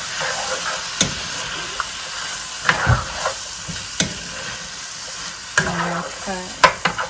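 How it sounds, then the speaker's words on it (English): Drained black beans for veggie nachos being stirred in a hot pan: a steady loud sizzle and hiss runs throughout, broken by sharp spoon scrapes and taps against the pan about every second. "Give that a stir."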